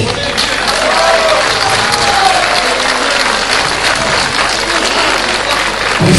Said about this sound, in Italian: Lo accoglierei con un grande applauso